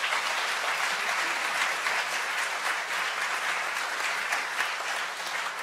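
A conference audience at the 2018 National Equine Forum applauds its panellists, a dense, even wash of many hands clapping that holds steady throughout.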